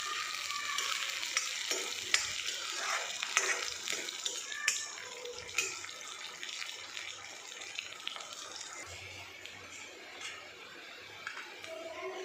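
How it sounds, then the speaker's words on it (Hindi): Onions and green chillies fry in a home kitchen pan, a steady close sizzle with scattered stirring clicks and scrapes running throughout, no talk. "अब हम इसमें हरी मिर्च ऐड करेंगे और इन दोनों को अच्छे से फ्राई करेंगे।"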